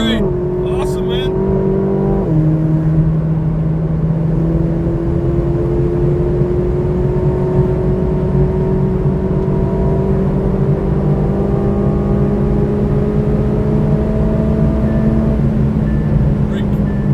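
A 2024 McLaren Artura under full throttle at an airshow venue in Twin Falls, Idaho, its engine note climbing steadily with a gear change early on, loud and continuous throughout, while people talk over it.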